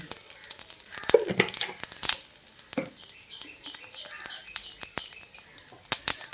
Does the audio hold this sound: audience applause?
no